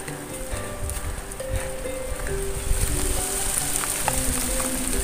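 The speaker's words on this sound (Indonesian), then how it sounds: "Dan hujan pun mulai turun." Steady rain begins falling across a hillside tea plantation, a broad continuous patter and hiss on leaves and surfaces, with scattered nearer drops and faint background sounds.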